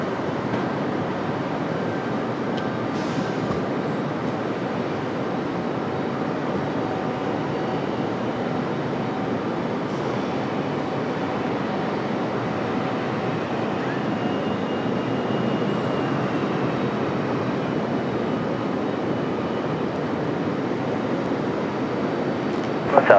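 A Southwest Airlines jet, flight 3158, at Raleigh-Durham airport gives off a steady, broad roar, distant and sustained, holding evenly throughout.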